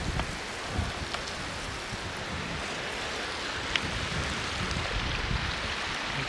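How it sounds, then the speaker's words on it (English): Steady rainfall patters all around in a continuous wash of noise at Tonto Natural Bridge State Park, with a few louder drops striking nearby; no voices. "It's raining all over."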